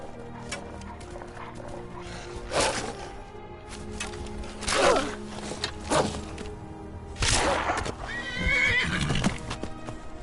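A horse whinnies several times in a game scene, loud high neighs recurring every couple of seconds over busy background game audio and hoof clops.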